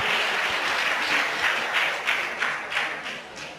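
An audience at a Bharat Swabhiman gathering in Bhagalpur, Bihar, gives a speaker a welcoming round of applause, dense, sustained clapping from a crowd lasting several seconds.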